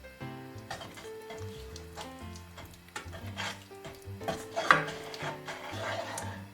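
Butter and sugar being stirred as they melt in a pan on a hob for fruity flapjacks, with a soft steady sizzle and scraping stirs plus occasional utensil clinks against the pan, close by and moderately quiet.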